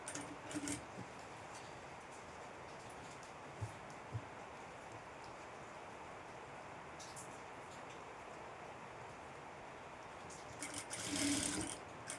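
A sewing machine stitches a princess-cut boat-neck designer blouse in a few faint, short bursts separated by long quiet stretches, with the longest run near the end.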